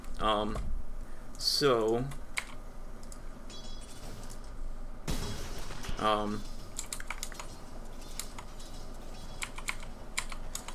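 Computer keyboard and mouse in use for Dota 2 play, giving steady faint clicking and tapping throughout, with game sounds and brief voices over it.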